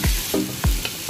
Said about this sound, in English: Stir that around in your wok. Just move your noodles to the side.